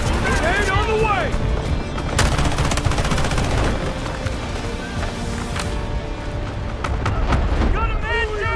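Grenade blasts and heavy gunfire in the Delta Force video game, with repeated booms and dense bursts of shots over steady battle noise, while voices talk over the fight.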